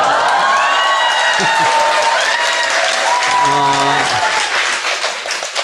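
Young people cheer and applaud at a lively gathering, a roar of clapping mixed with whoops and shouting voices, with talk rising over the crowd near the middle.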